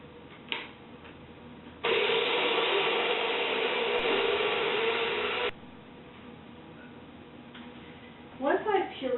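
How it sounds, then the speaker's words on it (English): A blender purees roasted cauliflower soup with Greek yogurt, a loud steady whir running for about four seconds before cutting off, with quieter kitchen clatter on either side. "I want to puree this until it's nice and smooth"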